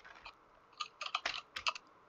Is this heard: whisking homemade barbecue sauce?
no